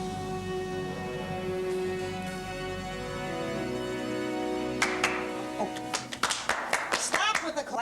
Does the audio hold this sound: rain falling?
no